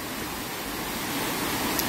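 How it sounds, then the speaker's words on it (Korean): Tat Sae waterfall near Luang Prabang, Laos, gives a constant broadband rush of falling water, loud and even throughout with no voices. "루앙프라방에서 한 17km 떨어져 있는 이곳 따세 폭포입니다."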